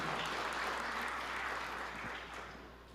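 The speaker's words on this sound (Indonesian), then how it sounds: "Beri tepuk tangan." A crowd applauding steadily, a dense wash of clapping that fades slightly toward the end.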